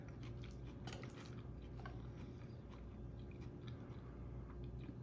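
Chewing a jalapeño popper chicken salad with onions and jalapeños, soft close crunching and mouth sounds repeating steadily over a low background hum.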